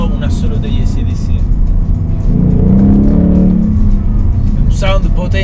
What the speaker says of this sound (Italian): Questo è tutto il sound genuino del motore.